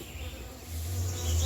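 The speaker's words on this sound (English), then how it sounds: "bees. We call them the money bees." Small bees buzzing along a nature trail, a close, droning hum that rises and thickens over the short span, with no talk.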